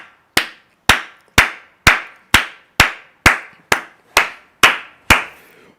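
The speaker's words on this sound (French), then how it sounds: "Est-ce que tu peux acclamer très fort pour la gloire de Dieu?" About eleven sharp claps ring out in a slow, even beat during a church service, each crisp and close with a short decay, with no cheering or voices.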